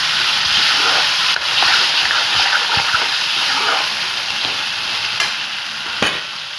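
Chickpeas stirred into frying masala for a chole curry give a loud, continuous sizzle and hiss. A spoon scrapes and knocks against the pan at intervals, close up and with no voices.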